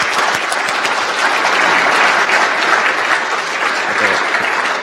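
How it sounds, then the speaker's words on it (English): Loud, dense applause from a conference audience at a Bitcoin expo at MIT, steady and sustained throughout without letting up, close and filling the room with no voices rising above it. "Can we have a round of applause?"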